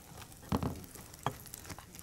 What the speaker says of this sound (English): I keep frying.